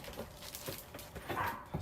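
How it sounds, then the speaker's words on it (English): A dog barks somewhere downstairs in a house, the muffled, fairly faint barks repeating unevenly under a steady background hum. "That's my dog downstairs."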